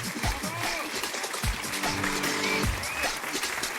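An audience applauds the actress playing Juliette in a live stand-up comedy show, a steady wash of clapping with voices speaking over it.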